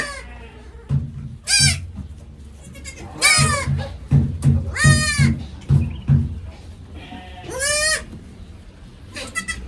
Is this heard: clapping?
no